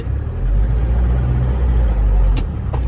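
A car engine rumbles loud and close as the accelerator is pressed, a steady low throaty drone that holds its level throughout with no clear rise in pitch.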